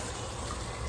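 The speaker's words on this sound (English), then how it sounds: "this is my water boiling for my potatoes" A pot of water boils for potatoes on a kitchen stove, giving a dense, steady bubbling roar that fills the short moment without any voice.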